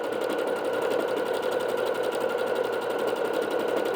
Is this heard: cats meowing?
no